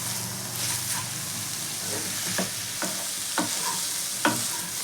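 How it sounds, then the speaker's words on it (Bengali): Radish chechki with fried, half-broken lentil dumplings is stirred in a pan, giving soft frying sizzle under a series of scraping spatula strokes that grow sharper toward the end. "এবার এই আধভাঙা বড়িটা দিয়ে দিচ্ছি"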